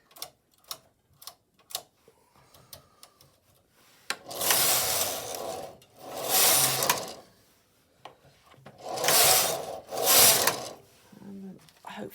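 A flatbed knitting machine carriage sliding back across the needles, heard as two long, loud rasping sweeps with a pause between them, after scattered light clicks and ticks.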